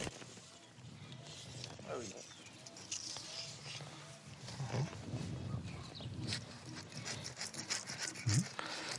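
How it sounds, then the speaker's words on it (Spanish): Stone tool scraping bark from a wooden branch, heard as steady rough rasping strokes at close range over faint background noise. "un cepillado o un raspado para descortezar una rama que podía ser luego utilizada para hacer un mango"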